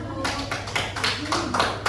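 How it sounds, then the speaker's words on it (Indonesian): Classmates give a round of applause for a group of students after a presentation, a short burst of uneven clapping in a classroom with voices talking over it. "Yuk kita beri tepuk tangan untuk kelompok 1"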